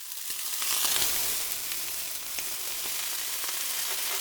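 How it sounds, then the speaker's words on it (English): Salmon fried rice sizzles steadily in a pan, a continuous close hiss with faint crackles throughout. "Now add the salmon rice. Let it cook for another 10 minutes."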